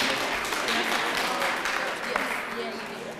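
A high school debate audience applauds both teams again, a sustained, fairly loud clapping that fades slightly toward the end, with scattered voices and cheers mixed in.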